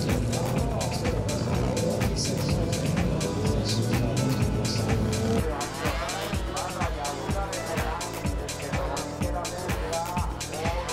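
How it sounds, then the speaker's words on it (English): Motorcycles run at speed through a straight line of cones spaced roughly four to eight metres apart, engines loud and continuous with revving that rises and falls, and a regular pulsing rhythm in the second half. "The bikes run through the linearly aligned cones at high speed."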